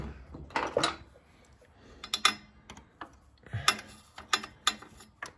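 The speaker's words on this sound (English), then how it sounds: "If I put my ratchet on it," A hand ratchet clicks against the shifter linkage of a Honda ST1300 motorcycle, producing close, crisp metallic clicks in short irregular bursts with quiet gaps between them.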